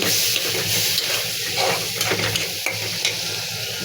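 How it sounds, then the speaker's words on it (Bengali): Onion and tomato sautéing in a frying pan give a steady, close sizzle, with soft stirring scrapes over it and no talking throughout. "এখানে পেঁয়াজ টমেটো কষিয়ে নিচ্ছি"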